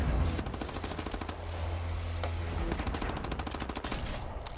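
Rapid bursts of submachine gun fire in the shooter game Wolfenstein: The New Order, loud and close, with a fast even rhythm of shots and a short pause midway.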